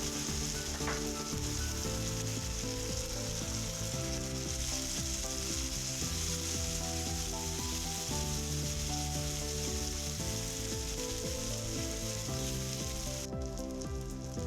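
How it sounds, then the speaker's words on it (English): Diced onions and sliced shallots sauté over toasted cumin seeds for an eggplant and potato curry, giving a loud, continuous close-up sizzle with faint stirring and no talking throughout. "After the cumin seeds are toasted, I will add my diced onions and sliced shallots and saute them"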